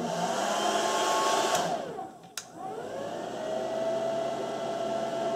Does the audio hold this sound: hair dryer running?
yes